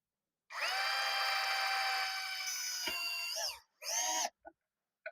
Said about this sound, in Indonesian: Kita bor dulu teman-teman.